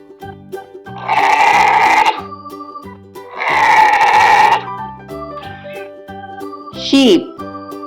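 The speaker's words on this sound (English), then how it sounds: "sheep," Sheep bleating from a farm animal sound set for children, two long loud bleats followed by a softer shorter call and a rising final cry, with faint tinkling bells underneath.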